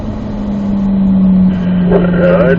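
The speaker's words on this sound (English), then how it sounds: "Then upshift to fourth gear, lift, let the car settle in the dip, and then squeeze back on." A car engine revving on a race course, a steady mid-pitched drone that rises and shifts as the driver upshifts, loud and close without talk.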